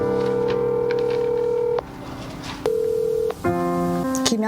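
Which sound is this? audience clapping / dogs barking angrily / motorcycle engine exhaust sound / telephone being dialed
telephone being dialed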